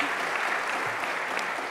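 A conference audience gives sustained, dense applause, an even wash of clapping from many hands that holds steady throughout.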